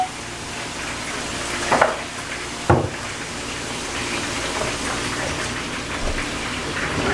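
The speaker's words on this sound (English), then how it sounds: "In the meantime, while that's frying." Food frying in a pan in a home kitchen, a steady broadband sizzle like light rain running throughout, with a couple of sharp clatters from the pan or utensils near the start.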